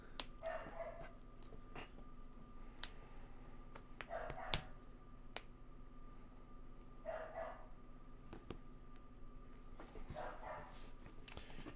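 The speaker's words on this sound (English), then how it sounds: "The dog goes angry again." A dog barking angrily inside a game being developed, four short bursts spaced a few seconds apart, moderately loud over a steady low hum and faint clicks.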